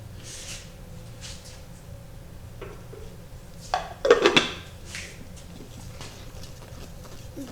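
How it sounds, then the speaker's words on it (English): Paper name slips rattle inside a wooden lidded dish as it is shaken: one short, clattering burst near the middle of an otherwise quiet stretch, with no voices. "these names into a lidded dish, shake it up, pick a winner"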